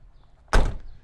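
A single solid thump as the door of a 1975 Oldsmobile 98 Coupe shuts close by, short and heavy, with a brief ring-off in an otherwise quiet space.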